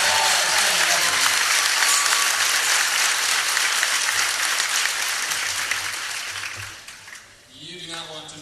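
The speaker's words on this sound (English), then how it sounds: "Give her a round of applause for standing up with" Loud, sustained applause from a graduation ceremony crowd, dense clapping and cheering that fills the room, then thins and fades toward the end as a voice begins speaking over the tail.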